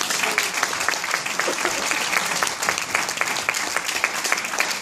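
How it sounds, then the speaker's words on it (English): Audience applause follows a stand-up comedy set: a dense, even wash of clapping from a crowd, sustained throughout. "Please, one more round of applause"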